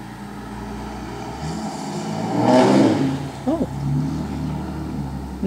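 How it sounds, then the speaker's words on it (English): Cars speed past outside an open window, a single vehicle's rising and fading whoosh at mid-distance peaking about halfway through, over a steady background hum, with a brief sound near the end. "Speeding cars."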